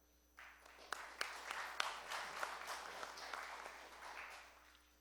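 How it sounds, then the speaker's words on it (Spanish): Sustained audience applause at a forum on an environmental taxation bill, a dense wash of many hands with a few sharper close claps, rising quickly and holding steady before easing off. "Fuertes palmas, por favor."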